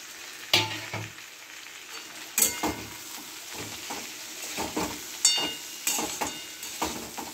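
Potatoes, yardlong beans and fried lentil dumplings being stirred in a hot pan, with a steady sizzle of frying broken by scraping spatula strokes and occasional sharp clinks against the metal, close and alone.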